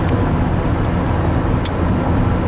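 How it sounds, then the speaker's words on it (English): Steady road rumble from inside a car while driving, a continuous low engine and tire drone with no distinct events, fairly loud and without speech. "I'm still on my drive to Pelham"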